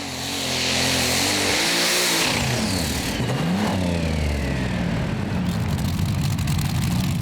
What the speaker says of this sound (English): one of the few tractors from Belgium competing in the Eurocup with a 6-cylinder DAF truck engine with spark plugs running on alcohol